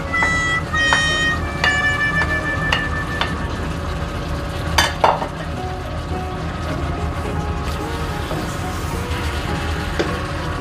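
Sweet peppers, paprika, onion and long beans stir-fried in a pan with ground pork, squid tentacles and fish balls, giving a steady close sizzle broken by scraping spatula strokes and a few sharp clinks, with no one talking.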